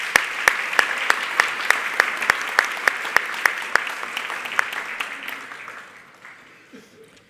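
Banquet guests applaud award-winning students, a crowd clapping with a few loud, regular nearby claps standing out before the sound gradually fades away, a faint chuckle near the end.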